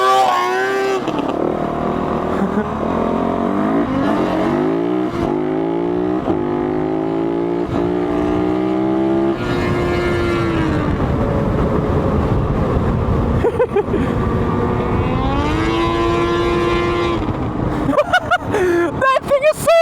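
A loud two-stroke engine swapped into a Kawasaki Bayou ATV revs hard through rising and falling pitch sweeps, close and continuous, with a person talking over it in places.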